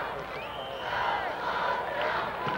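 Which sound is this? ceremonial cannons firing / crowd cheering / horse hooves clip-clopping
crowd cheering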